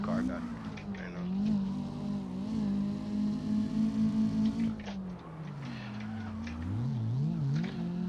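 A Toyota AE86 engine in CarX Drift Racing drones steadily, then drops in pitch through a downshift and rises and falls with throttle blips, with a voice talking over it.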